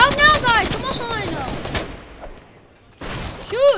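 Gunfire in a shooter video game, a burst of rapid shots up front mixed with loud excited voices, then a quieter gap before talking resumes.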